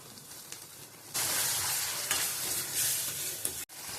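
Egg curry masala frying in oil, with ground coconut and salt added, crackles softly and then jumps into a loud, bright, continuous sizzle as more goes into the pan, cutting off sharply near the end. No voices are heard.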